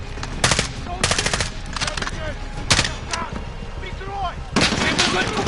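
Rapid machine gun bursts rattle loud and close in the video game Modern Warfare, coming in several volleys with short gaps and scattered battlefield noise between them.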